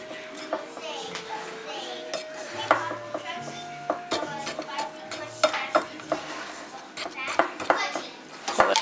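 A pastry blender cuts shortening into a flour mixture for tortillas in a bowl, producing soft repeated scraping and clinking strokes at an uneven rhythm, close up, with someone talking in the background.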